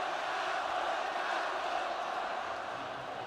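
The crowd at the Manila Major esports event gives off a loud, continuous roar of many voices, a broad, even wash of cheering and chatter with no breaks.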